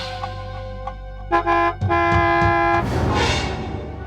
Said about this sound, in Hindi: ये तो गाड़ी की आवाज है, लगता है वो आ रहा है।